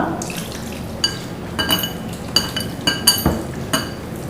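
Water splashing into a glass in short bursts, with clinks of glass and utensils on a counter; close and fairly loud.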